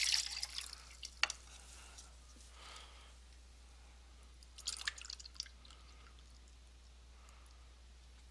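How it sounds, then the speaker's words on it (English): Liquid poured from a cone-shaped container into a cylinder of the same dimensions during a math lesson, brief splashing trickles and drips in short bursts separated by quiet pauses, over a low steady hum. "this is going to be a little harder to pour"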